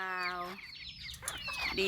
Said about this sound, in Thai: ไก่ซิลกี้ ไก่ขนไหม